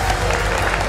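Audience applause at an award ceremony, a dense, continuous wash of clapping from a large crowd, loud and close throughout the moment.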